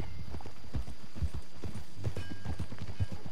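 Horse hooves clip-clop in a steady rhythmic gait while riding in the video game Red Dead Redemption 2, close and clear over a low background hum.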